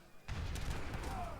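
A volley from two heavy cannons booms in an Age of Empires III match, one deep blast that sets off a rumbling, crackling impact lasting about a second over faint game ambience.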